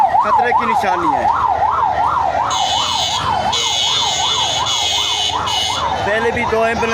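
A loud ambulance siren warbles in quick, regular up-and-down sweeps, joined midway by a shrill higher tone, close by over road rumble, during clashes at Sehwan Dargah.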